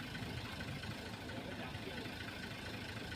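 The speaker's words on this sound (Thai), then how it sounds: "เสียงมันดังกับเครื่องยนต์นิดนึงนะพี่ชมนะ" A car engine idles with a steady, even hum, moderately loud and continuous, with faint voices mixed into the background.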